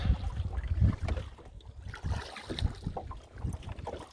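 A Pooduck skiff under sail on open water, steady hull wash and a low rushing wind buffeting the microphone, close and continuous with no voices.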